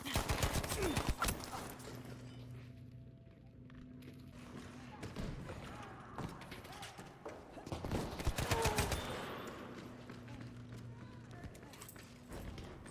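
Bursts of M3 Grease Gun fire in Battlefield 5 come as rapid clustered shots, loud then fading, with footsteps and thuds between bursts while a voice talks throughout.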